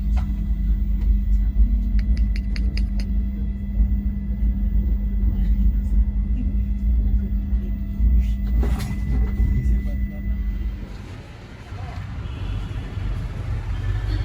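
A superfast express train bound for Guruvayur runs at speed, heard from on board as a loud, steady low rumble that shifts in tone near the end.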